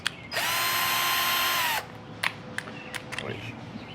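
A power drill bores a hole through plastic on a Mustang GT, one loud close whirring burst of about a second and a half, then scattered clicks and taps as it settles.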